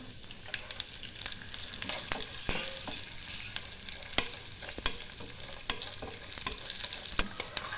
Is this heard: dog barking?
no